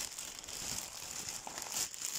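Crinkling plastic as a bag is unwrapped while unpacking a large parcel box, a steady close rustle lasting a couple of seconds with a brief louder crackle near the end.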